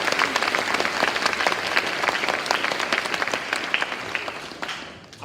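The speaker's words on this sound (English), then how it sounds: "Please give them applause" A crowd at a 2018 high school commencement ceremony in Phoenix gives sustained applause, a dense, even roar of many hands that fades out toward the end.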